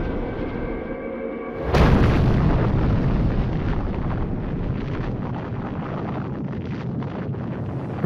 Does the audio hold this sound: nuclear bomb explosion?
yes